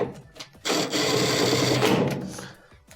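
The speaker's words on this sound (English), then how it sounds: "Let's reinstall the 2 rear 1/4 inch screws." Quarter-inch screws are driven back into the rear of a dryer with a short, close burst of grinding, rasping drive noise lasting about a second and a half, preceded and followed by small handling clicks.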